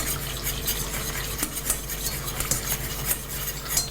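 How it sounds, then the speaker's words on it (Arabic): A spoon scrapes and clinks steadily against a pot of fava beans with cream, a close, rhythmic stirring over a low bubbling hiss. "هات نحرك الفول"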